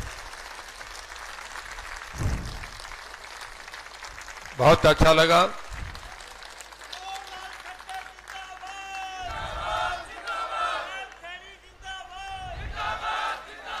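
At a Bharatiya Janata Party office opening in Hisar, a crowd applauds and cheers in bursts, with a loud clatter of clapping midway, under and between someone speaking Hindi over a PA.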